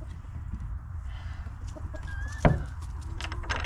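Chickens clucking in a backyard coop, soft scattered clucks and one sharp louder squawk at close range, with low background rumble and no speech.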